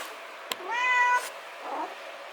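A cat meows once, a clear drawn-out call close by in an indoor drying room where nettles are spread out to dry, followed by a fainter short sound.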